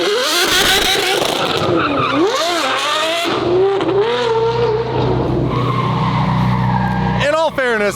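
A car drives hard and skids, its tires squealing in long sliding sweeps while the engine revs and roars up close, with people talking and exclaiming over the noise.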